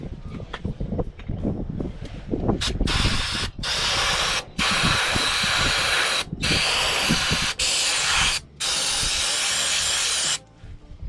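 Close-up hissing bursts from an aerosol can of carburetor cleaner sprayed into a motor home engine, several long sprays separated by brief pauses, after some faint clattering at the start.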